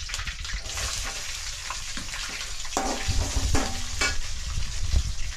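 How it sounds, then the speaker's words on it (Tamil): Large and small onions fry in a hot pan with a steady hiss and crackling sizzle, plus occasional stirring scrapes, close and continuous with no voices. "வெங்காயம் போட்டுக்கலாம்."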